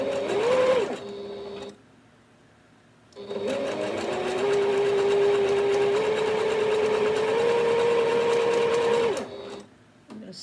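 A Singer Heritage sewing machine runs a zigzag stitch in steady, close bursts: a short run, a pause, then a long continuous whirring stretch before it stops again.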